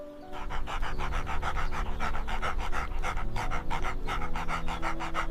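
A dog pants rapidly and steadily, close up, with quick rhythmic breaths continuing throughout.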